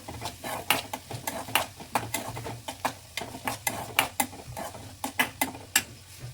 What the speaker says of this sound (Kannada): ನೆಕ್ಸ್ಟ್ ಇದಕ್ಕೆ ನಾನು ಆನಿಯನ್ ಹಾಕೊಂಡಿದ್ದೀನಿ. ಹಾಫ್ ಫ್ರೈ ಆದರೆ ಸಾಕಿದೆ, ಫುಲ್ ಫ್ರೈ ಆಗೋದು ಬೇಡ.